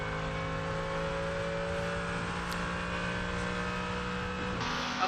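Race cars stream past on the Imola circuit during a six-hour endurance race, a steady engine drone with sustained tones that shifts sharply near the end.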